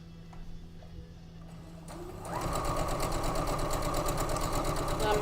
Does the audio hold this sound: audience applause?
no